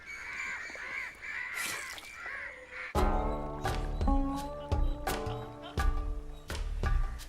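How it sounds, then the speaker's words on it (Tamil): Crows caw in a village setting, several harsh calls overlapping at moderate distance, then music with rhythmic percussive beats takes over and continues to the end. "இந்த காக்காங்களால பெருந்தொல்லையா இருக்கப்பா."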